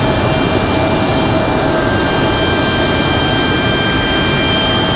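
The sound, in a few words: Republic Airways United Express Embraer E175 jet arriving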